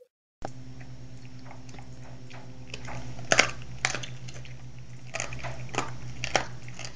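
A dog chews raw meat pieces up close, with irregular wet crunches and bites over a steady low background hum, no talking.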